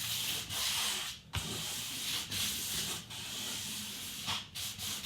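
Steady back-and-forth rubbing of a cloth soaked in isopropanol along a Tomy AFX / Aurora slot car track, a continuous dry scrubbing hiss with a few brief pauses between strokes, close and alone.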